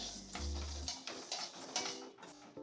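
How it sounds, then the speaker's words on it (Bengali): Moong dal dry-roasting in an empty kadai over medium heat, stirred with a utensil: faint, close scraping and light ticking rattles of the lentils against the metal pan in short, irregular strokes. "হালকা কড়াইয়ে নেড়ে নেব"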